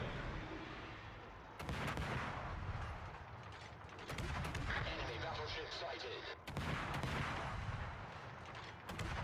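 Naval gunfire in a warship video game, with shells fired at the cruiser Hipper: heavy booming salvos break out in three loud bursts, each rolling on with dense rumbling cannon fire.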